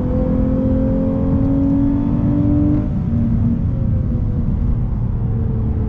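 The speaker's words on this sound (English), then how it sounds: "Nice smooth downshifts." A 2021 Lexus IS350 F Sport engine drones steadily while driving, its pitch gliding down partway through as it downshifts, with a constant rumbling road roar underneath and no talking.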